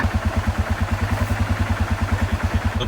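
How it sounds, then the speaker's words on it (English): A quad bike engine runs close and loud with a fast, even thumping beat that holds steady and unbroken, no voices over it. "I'm on the quad bike."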